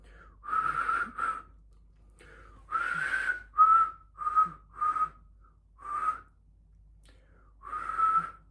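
Close, clear whistling from one person comes as a string of short, separate notes with brief gaps between them. Some phrases glide in pitch and others are clipped, with soft breath sounds between.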